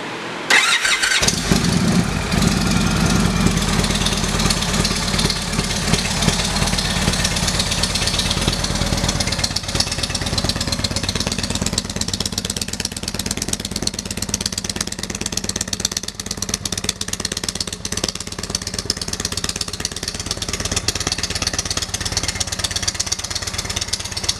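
A 2016 Indian Chieftain motorcycle with custom exhaust pipes starts up and settles into a loud, steady idle. The deep, continuous rumble is heard up close and runs on with no talking.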